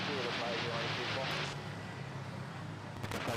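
Philippine Airlines airliner at Manila Airport, a broad, steady jet engine roar heard from a distance that holds constant and eases slightly partway through, with wind-like rumble and a voice speaking.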